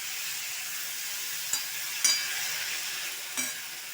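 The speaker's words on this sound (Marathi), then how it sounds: "चांगले हलवून घेऊया।" Squeezed spinach is stirred in a frying pan over sautéed chillies, giving a steady bright sizzle with a few sharp scraping clicks from the stirring.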